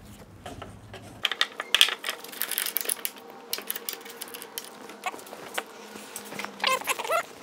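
A ratchet strap is tightened on a surfboard rail at a workbench, producing close, crisp clicking ratchet bursts spread irregularly across several seconds amid quieter handling noise; no one speaks.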